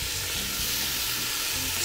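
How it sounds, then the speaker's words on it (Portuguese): Meat sizzles loudly and continuously in a hot pan as the first step of a cassava stew, a dense close-up frying hiss with no voices. "eu frito primeiro a carne e deixo o sabor dela aqui dentro"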